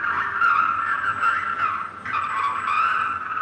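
A fire truck siren wails continuously in a Memorial Day parade in Michigan, its pitch rising and falling in sweeps, over a low outdoor rumble.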